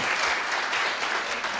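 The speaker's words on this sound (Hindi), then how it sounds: "फिर भी ताली बजा दो आप।" Audience applause in an indoor seminar on passive income, a steady dense clatter of many hands clapping close and loud throughout, with no talk over it.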